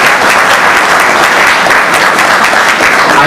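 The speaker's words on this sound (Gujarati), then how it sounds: "તાળી પાડવાની છૂટ છે" Audience at a bhajan program applauding, a dense, loud, continuous clatter of many hands that holds steady for the whole stretch with no pause.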